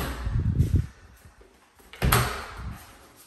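A bedroom closet door with two doors is slid or opened in a duplex, giving two rumbling, rolling bursts roughly a second and a half apart, close and moderately loud.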